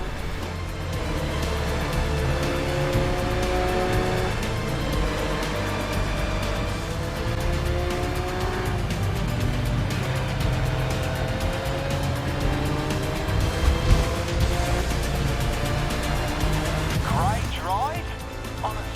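Race cars in Grid Legends roar around a track, engines revving and shifting through gears with tire squeal and cars passing close, a continuous loud blend under a speaking voice.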